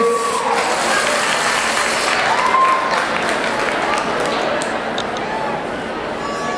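An audience at a cosplay awards ceremony applauds a winning team with broad, continuous clapping and crowd noise that holds steady, then eases slightly toward the end.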